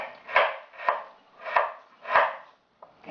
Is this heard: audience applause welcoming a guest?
no